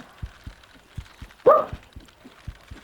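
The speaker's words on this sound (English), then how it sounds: "No barking." A dog gives one short, fairly close bark indoors, set against a regular low thumping with no talking.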